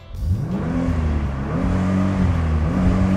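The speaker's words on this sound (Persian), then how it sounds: "الان میخوام یه گاز بدم." A Nissan GT-R engine revs hard from inside the cabin, rising and dipping in pitch through repeated throttle blips with a loud, steady interior drone and no talking.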